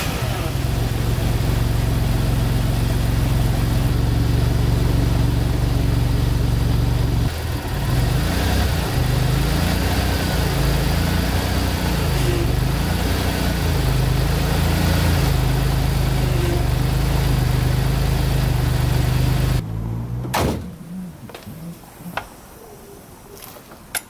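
A barn-find Maserati Biturbo engine idles loud and close after finally starting, a steady rumbling drone with slight rises in revs, before cutting out near the end and leaving quiet.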